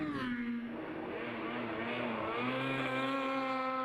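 A Formula 500 race car engine revs and drones steadily at the SCCA Runoffs, its pitch rising and falling in long sweeps, loud and continuous throughout.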